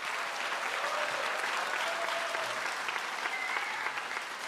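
Audience at a grade 5 elementary school promotion ceremony applauding, an even, continuous patter of many hands clapping at moderate distance without a break.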